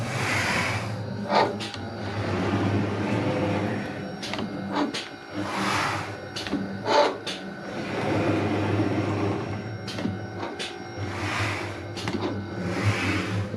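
CNC router cutting a V-groove, a spindle whine with repeated rising and falling surges as the tool moves along its passes, loud and close with no voices.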